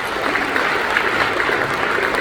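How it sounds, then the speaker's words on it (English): Loud, close applause from a live audience for a volunteer brought up on stage, a dense uninterrupted wash of clapping for about two seconds. "Can we give Trevor a big round of applause?"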